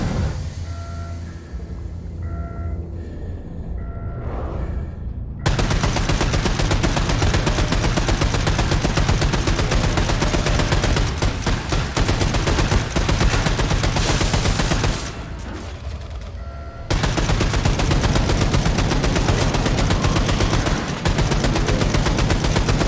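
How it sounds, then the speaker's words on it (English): A big turret gun in Wolfenstein 2: The New Colossus fires long, loud, continuous bursts, with two brief pauses between the sustained streams of gunfire. "Nope, this is that big turret gun."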